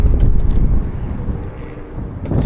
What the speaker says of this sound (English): You can see the airplanes coming in and leaving.